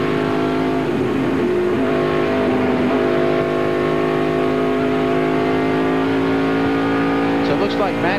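Tony Stewart's 2001 NASCAR Cup race car, fighting a tight handling and brake condition, drones at high speed back up to pace, the engine's steady roar joined by other cars and a commentator's voice.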